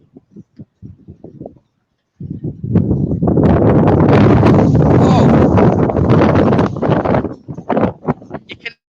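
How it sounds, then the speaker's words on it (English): Strong gusting gale wind from Storm Eunice at Eastbourne roars across the microphone for several seconds, with someone speaking briefly before and after the blast. "It's blowing a gale."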